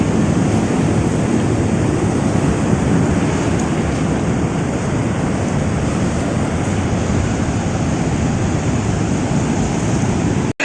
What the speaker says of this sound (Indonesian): Karena hempasan ombaknya itu yang menjadi daya tarik Karangtaraje.